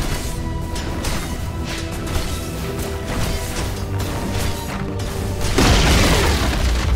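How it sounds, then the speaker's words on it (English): A Dota 2 tower crumbles in a dense game mix of rumbling booms and crashes, with a louder collapsing burst swelling near the end over constant battle noise. "Radiant's bottom tower has fallen."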